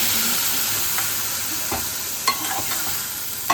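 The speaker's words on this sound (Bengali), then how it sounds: "এবার আমি অল্প করে জল দিয়ে দেব।" Okra and spice masala in a pan, with a little water just added for a prawn and okra curry, gives a steady sizzle alongside a few soft scrapes and clinks from stirring and no talking.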